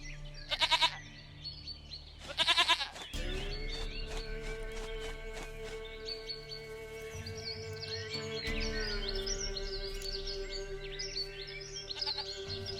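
A goat bleats in The Witcher 3, two short loud wavering cries close by near the start, then gives way to steady game ambience with a sustained low tone and faint bird-like chirps.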